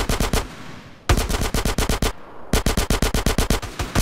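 Heavy automatic gunfire in GTA San Andreas, loud and close: rapid bursts of shots with two short pauses between three volleys.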